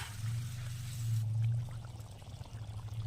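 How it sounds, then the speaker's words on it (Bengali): Potatoes are tipped into a pan of curry: a soft pouring and sliding sound, followed by faint sizzling and bubbling from the pan, close by and with no talk. "এবার আলুগুলো সব ঢেলে নেব"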